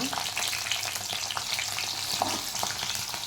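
Green chillies fry in hot oil with a loud, dense, continuous sizzle and crackle heard up close, broken by a few small stirring sounds.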